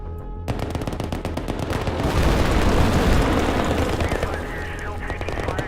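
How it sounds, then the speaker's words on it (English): Rapid machine-gun bursts sound in a counterinsurgency wargame video game as a gun run hits a target. The firing is dense and loud and swells into a heavy roar in the middle before thinning out. "Gun run."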